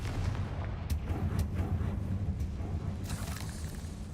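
Fire-blast spell bursts in Hogwarts Legacy come as a series of thudding blasts with rumbling low booms and sharp cracks, recurring through a dense game soundscape.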